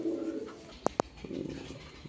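Black female racer pigeons let out two short, distinct coos close together, heard nearby amid soft low background noise with no speech.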